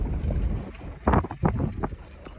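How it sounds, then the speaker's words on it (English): Strong gale-force wind buffets the microphone outdoors at night, a steady low roar with several louder gusts surging through. "It's still blowing a gale."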